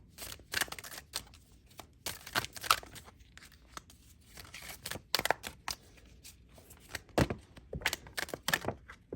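Tarot cards being shuffled and handled, bursts of crisp riffling and slapping clustered in irregular runs with quiet gaps between, close and fairly soft, no voice.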